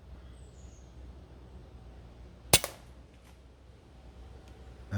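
One sharp, crisp shot from an air rifle at a grey squirrel cracks out loud and alone against a quiet outdoor background, followed by a brief faint rattle.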